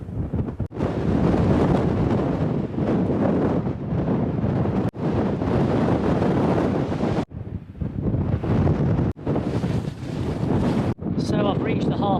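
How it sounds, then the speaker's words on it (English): Strong gusting wind buffets the microphone on an exposed hilltop stretch of the Pennine Way, a loud continuous roar with brief lulls and sharp dropouts, dominating the scene throughout. "The wind is just getting stronger and stronger."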